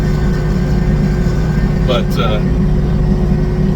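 An RK37HC tractor engine drones steadily while moving snow, a loud, even mechanical hum throughout, with a voice briefly speaking over it.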